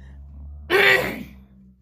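A single sharp sneeze bursts out close and loud after a brief quiet moment, then trails off over a low background hum.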